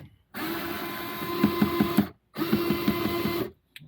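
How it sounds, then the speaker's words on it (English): A Dremel rotary tool whines in two short bursts with a pause between them while it works tight screws during a Porsche 981 gauge cluster removal. The motor sounds strained and near, with a faint rattle in each burst. "It's fighting the Dremel."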